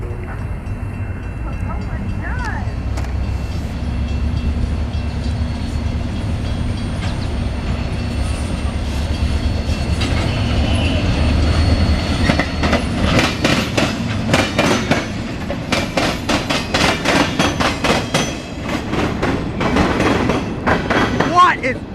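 A Norfolk Southern local freight train backs slowly through Marion, Ohio, its low engine rumble building into rhythmic clickety-clack of wheels over rail joints, loud and near, with people talking over it.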